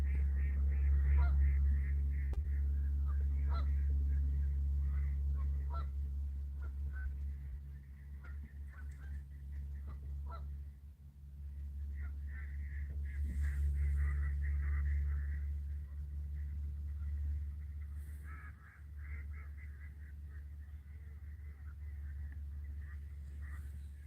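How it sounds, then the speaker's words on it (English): Ducks quack repeatedly in short, nasal bursts, moderately far off, over a steady low hum of traffic or machinery. Some calls come in clusters. "Can you hear these ducks?"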